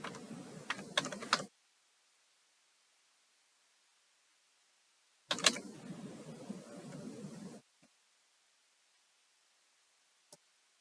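Password typed on a computer keyboard, two short bursts of rapid key clicks separated by silence, close and quiet, with a single faint click near the end.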